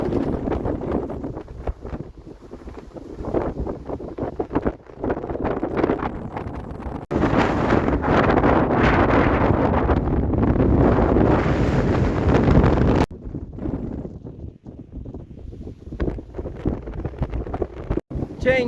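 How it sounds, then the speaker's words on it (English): Strong gusting wind on a mountain buffeting the microphone in loud, rumbling blasts, with a sustained heavier gust in the middle and choppier bursts either side. "As you can tell, the wind's too much"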